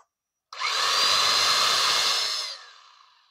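Used 230V electric power drill, an imported secondhand Korean tool about 90% new, spins up suddenly and runs with a loud, steady high whine for about two seconds before winding down, close by with no talking.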